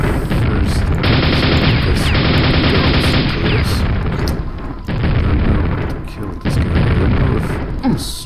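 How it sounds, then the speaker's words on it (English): Gunfire in the video game Quake, with loud repeated shots and booming blasts in rapid bursts, some short gaps, and a voice talking faintly underneath. "Straight up shooting."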